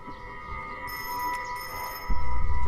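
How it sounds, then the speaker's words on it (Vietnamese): A telephone rings in a 1930s Manchuria-era wartime drama scene, a steady electric bell tone running under a low room hum, with a louder rumbling noise swelling near the end. "Chú Cũ, điện thoại chú reo kìa."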